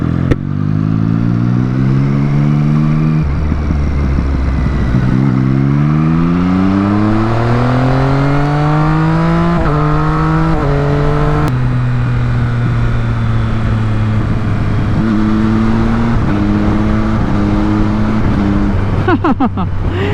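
Triumph RS765 superbike engine revving hard and climbing through gears with quick, clutchless quick-shifter changes, pitch rising then dropping at each shift, loud and close throughout with no talk.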